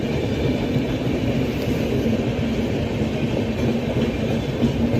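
A route-diverted express train runs through Bhimavaram station without stopping, a loud, close, steady rumble with rhythmic clickety-clack from the wheels carrying on throughout.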